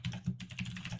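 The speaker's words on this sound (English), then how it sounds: "loud typing" Loud, fast typing on a computer keyboard, close and steady, a dense run of clicking keystrokes with no voices, heard during a tabletop role-playing livestream.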